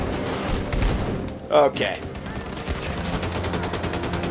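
Explosions and gunfire in the shooter game Wolfenstein II, a burst of rapid shots with a loud blast near the middle, over a continuous game soundtrack while someone speaks briefly.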